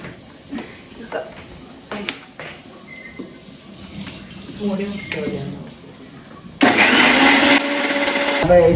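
An electric mixer grinder switching on in a home kitchen after scattered clinks and light handling noises, then running loud and steady to the end.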